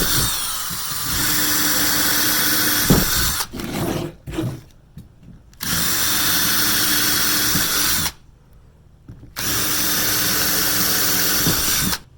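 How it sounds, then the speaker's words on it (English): A power drill fitted with a 3/16 bit bores pilot holes into stacked boards, a loud, close, high whining drone in long bursts that stop and restart between holes. "Using your 3/16 drill bit, drill 2 holes here and 2 holes here."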